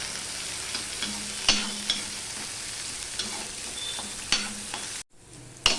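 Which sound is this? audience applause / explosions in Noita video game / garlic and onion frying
garlic and onion frying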